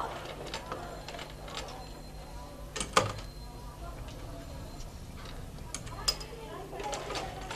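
A sewing machine stitches a hook loop on a blouse, its needle ticking in a quick mechanical rhythm at close range, steady throughout with a few sharper clacks, under occasional quiet talk.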